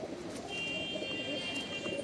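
A Madrasi pigeon, kept for sale in Chhatarpur village, Delhi, gives a soft, low, murmuring coo that runs faintly and steadily under light background noise.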